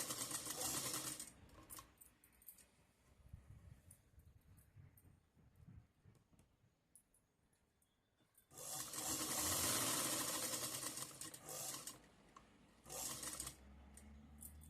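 A sewing machine stitches a zipper pocket onto trousers, running in a loud whirring burst at the start, pausing quietly, then running again strongly for several seconds near the end.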